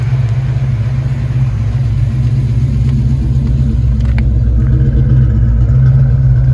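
A Ford Mustang Foxbody's engine idles steadily with a deep, even rumble, loud and close, with no voices over it.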